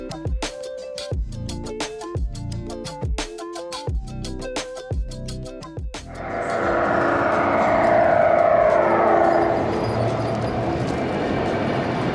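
A 16th Street Mall ride bus passes on the street: a quick rhythmic clacking gives way to a loud, broad rushing roar that swells and holds as it goes by close.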